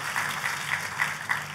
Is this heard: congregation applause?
yes